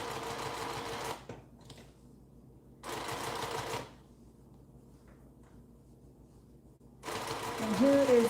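Sewing machine running top stitching in three bursts of steady whirring, each about a second long, with quiet pauses between them.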